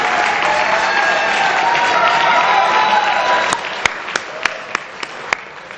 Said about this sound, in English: That's a nice round of applause